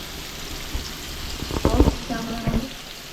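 Prawns fry in hot oil in a home kitchen, giving a low steady sizzle with a short cluster of louder crackles and spatters midway, fairly close and with no talking.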